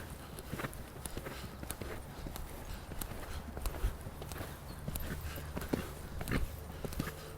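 A horse's hooves strike the ground in an irregular walking rhythm during a training session, soft thuds and clops at moderate distance over faint background noise.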